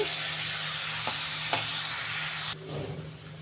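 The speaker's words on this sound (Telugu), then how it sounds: "కొంచెం నిదానంగా సిమ్లో పెట్టుకుని చక్కగా రంగు మారేంత వరకు మనం ఆనియన్స్ని వేయించుకుందాం" Onions frying over low heat in a pan make a steady close sizzle with a couple of stirring clicks, then the sound drops to a quieter hiss near the end.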